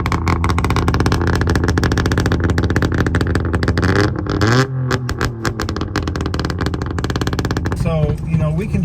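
A Saab two-stroke car with a column shift drives along, its buzzing, ringing engine note rising and falling through gears with a brief dip, while people talk over it inside the cabin.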